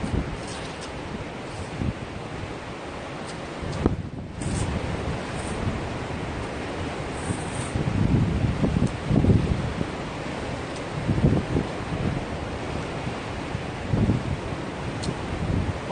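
Waves and wind at the seaside in Gyeongju, a constant noisy wash with gusts buffeting the microphone and swells of surf rising and falling throughout.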